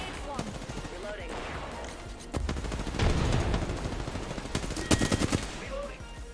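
Apex Legends gunfire rattles in rapid automatic bursts and single sharp shots, some close and loud and others more distant, with heavier volleys toward the end.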